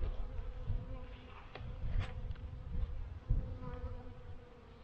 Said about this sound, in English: Some bees on there.